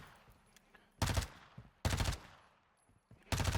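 Three loud, separate bursts of rapid gunfire from a video game set on Ashika Island, spaced about a second apart with quiet gaps between them.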